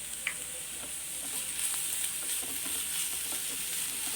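Grated carrot frying in a pan for veg momos gives a steady close sizzle, broken by occasional light stirring scrapes and small clinks.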